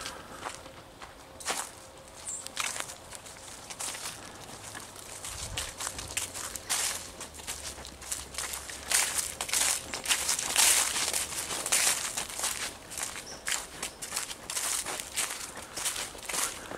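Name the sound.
footsteps crunching dry leaves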